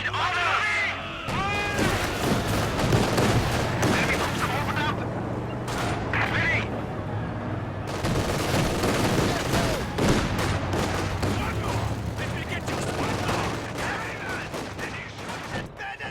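Gunfire from a strategy video game, with bursts from a DP machine gun carried by guards advancing up the left flank. Shots crackle and rattle continuously across the scene at moderate loudness, and a commentator talks over the combat.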